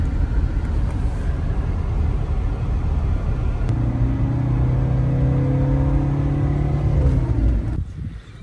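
A 1983 Mercedes-Benz W126 300 SD engine drones steadily while driving, a loud, continuous low rumble that gains a rising tonal whine partway through before easing off near the end.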